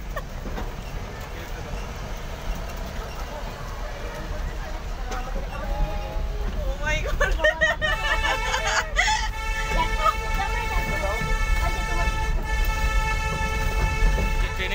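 A train at a station getting ready to pull away, with a steady low rumble that grows louder and sustained horn tones sounding from about nine seconds on, while people talk nearby.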